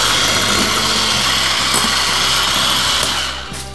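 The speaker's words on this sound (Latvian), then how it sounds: "biskvītam sāk ar to, ka saputoju 3 olas ar 100 gramiem cukuru" An electric mixer whirs loudly and steadily as it beats three eggs with 100 grams of sugar for a sponge cake batter, a constant close motor drone that eases off slightly at the end.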